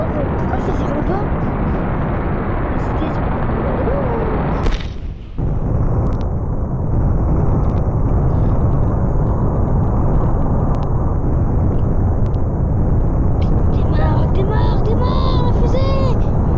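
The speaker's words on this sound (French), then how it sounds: "On allume tous les réacteurs." Rocket engines fire in a rocket-building video game as a loud, continuous broadband roar that briefly drops out and then resumes at full strength.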